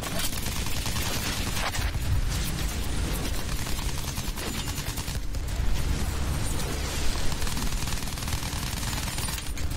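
Gunfire aimed at an aircraft in Battlefield 1, relentless rattling machine-gun bursts and distant blasts under a roaring engine drone, loud and continuous throughout.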